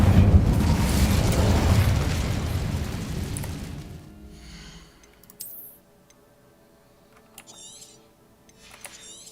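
An Incendio fire spell blast in Hogwarts Legacy roars loudly for several seconds with a rumbling, crackling burst, then dies away into quiet, leaving faint clicks and small game effects.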